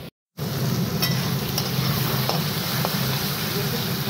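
Onion and vegetables frying in oil in a home kitchen pan give a steady, close crackling sizzle after a brief dropout at the start, with a voice talking over it.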